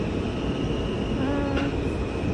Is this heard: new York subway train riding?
yes